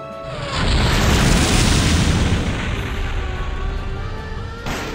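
A Giga Fire spell explodes in the tactical RPG Disgaea 1 Complete, a loud sustained roaring blast that swells quickly and rumbles on for several seconds with crackling fiery texture before tapering off.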